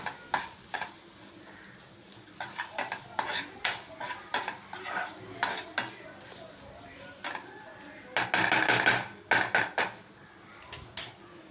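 Spleen is stirred and sautéed in a hot pan with a steady sizzle, while a utensil scrapes and clatters in repeated close strokes that grow busier toward the end.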